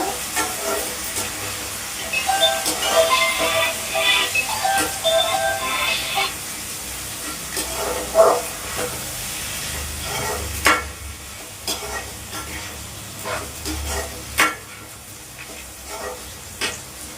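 Tomatoes, green chillies and coriander with onions sauté in a pan, giving a soft continuous sizzle and hiss broken by occasional scraping stirs and taps, fairly quiet and close.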